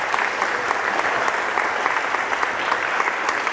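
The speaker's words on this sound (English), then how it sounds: "I just want to give a quick round of applause to Github and the team" Conference audience at a tech event applauding the organizing team, steady full-room clapping sustained throughout, dense and even with scattered sharper claps.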